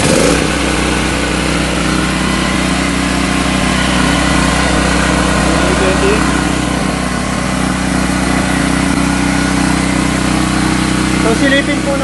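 A Marpro MP3500 unit runs on test with synthetic 10W30 oil, a loud, steady small-engine drone with a constant hum that holds unchanged for the whole stretch.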